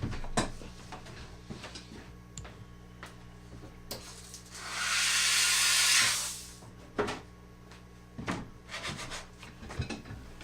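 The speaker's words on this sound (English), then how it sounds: "I'm gonna steam clean this off real quick so I can reuse it." Steam cleaner blasting off a wire spring, a steady broadband hiss of about two seconds in the middle, set among light handling clicks and rubbing, with no talk.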